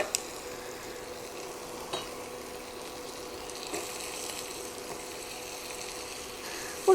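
Onions sauté in a pan with rendered bacon grease, giving a soft, steady sizzle with occasional light clinks of a utensil against the pan, close but fairly quiet.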